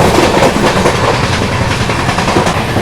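The Sanghamitra Express rushes past at close range on an Indian railway line, a loud continuous roar of rolling wagons with rhythmic wheel clatter throughout.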